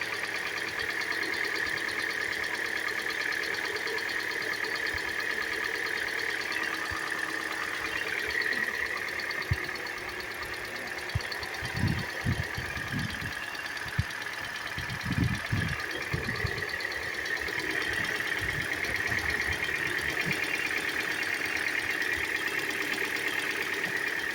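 A cold 2015 Hyundai Elantra engine idles quietly and evenly, a steady low hum with a faint ticking texture and a few brief bumps of handling noise in the middle.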